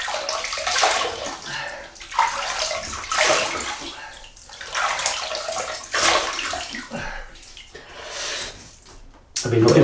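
Water runs from a tap to wet a shaving brush and soap, coming in repeated splashy surges of flow with short lulls, close and moderately loud.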